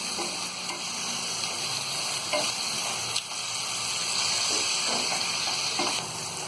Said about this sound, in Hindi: इन सारी चीजों को हम अच्छी तरह भून लेंगे।